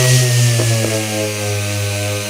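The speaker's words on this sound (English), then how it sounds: "So right now I'm gonna continue to sand down this epoxy primer." Power sanding of epoxy primer on dirt bike plastic, a loud steady motor drone with a couple of brief scraping accents, close up and without voices.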